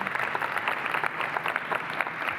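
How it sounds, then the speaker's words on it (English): Conference audience applauding the announcement of Agentforce for financial services, a brief, steady burst of clapping from a sizable crowd, fairly close and unbroken. "Can we get a round of applause?"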